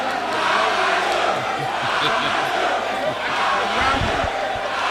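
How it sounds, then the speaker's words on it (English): A crowd of students at a university congregation cheers and shouts for their lecturer, a loud continuous roar of voices and whoops with a few low thumps, close and unbroken. "give him all the applause."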